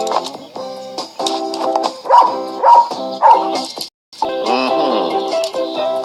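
A dog barks and yips in a series of loud, close bursts, ending in a drawn-out whine or howl.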